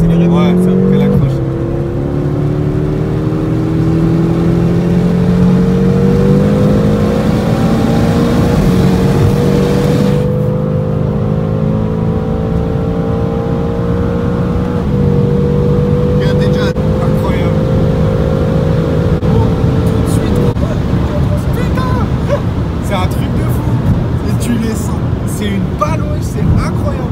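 A BMW M6 accelerates hard, its engine note climbing through rising gears in long sweeping pulls with brief dips at each shift, loud and close throughout while occupants talk over it.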